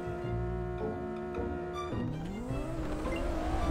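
An Audi R8's engine roars through a Roblox racing game as a downhill race begins, with a steady, loud drone that rises in pitch near the end as the car accelerates.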